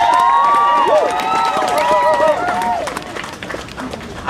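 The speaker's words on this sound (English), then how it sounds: "give yourself a round of applause for standing up for peace and love and justice" A crowd at a 2002 vigil held in the rain applauds. Loud clapping and rising whoops and cheers swell together, then thin out over a few seconds.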